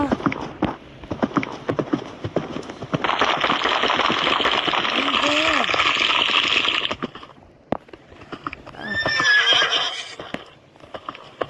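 A horse whinnies and its hooves clip-clop in a Roblox castle obby game, a long bright neigh mid-clip and a second rising whinny later over scattered clicks and tapping.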